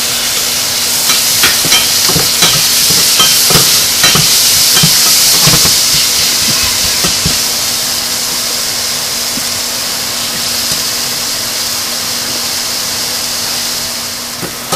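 Carrot-free chole frying in a pan as tomato goes in, a loud steady sizzle with hiss and scattered scraping stir strokes close up, slowly easing off toward the end, no voices.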